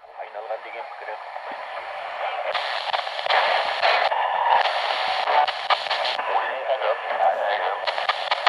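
ATS-20 shortwave receiver tuned to the 11 MHz broadcast band in the field, giving a noisy, fluttering broadcast signal with faint voice-like modulation under hiss, steady and close, rising slightly in level partway through.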